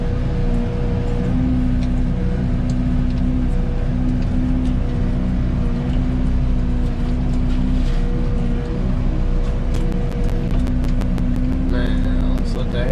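A tracked forestry mulcher clearing underbrush runs with its cutting head spinning, giving a loud, steady engine and rotor drone with a constant hum and occasional clatter near the end.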